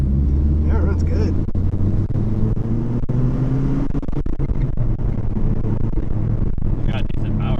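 A car engine running after a manual transmission swap, a 4-cylinder single-cam drift car with burnt rubber: a steady, loud low engine drone with rising pitch as it revs, under the sound of people talking.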